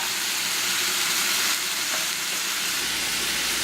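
Carrots frying in a pan for a carrot fry, giving a steady, dense sizzle that stays loud and even from start to finish with no talking.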